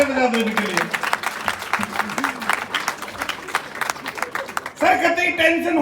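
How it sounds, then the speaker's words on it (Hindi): Audience applause at a comedy show, a burst of crowd clapping rattling along throughout while voices talk and laugh over it, swelling louder near the end. "जोरदार ताली बजा दो इनके लिए।"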